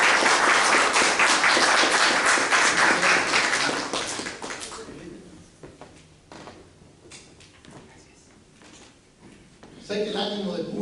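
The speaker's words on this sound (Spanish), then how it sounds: "Fuerte palmas, por favor." Applause for an honored guest joining the head table at a Spanish-language book presentation: loud, dense clapping for about four seconds that thins into scattered claps and quiet room noise, with a brief swell of sound near the end.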